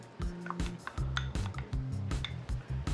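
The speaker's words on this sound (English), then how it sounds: "get that mac and cheese mixed up really good" A utensil stirs and scrapes through thick mac and cheese mixed with sour cream in a pot or bowl, giving repeated close clinks and scraping strokes in a steady rhythm.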